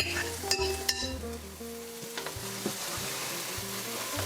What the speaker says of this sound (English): Just let that sizzle for a little while in the butter.